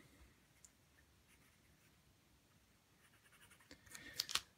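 A fine-nib fountain pen writes on paper in faint, soft scratchy strokes in a quiet room, ending in a few louder clicks and taps.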